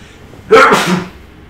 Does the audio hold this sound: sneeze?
yes